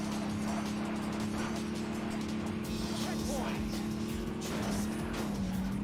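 A Ford Bronco drives off-road in the PS2 game Off-Road Wide Open, a steady droning engine hum with brief tire noise, all heard under continuous talk.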